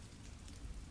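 A brief, faint wash of steady rainfall, a dense even patter with a slight low rumble and no voices.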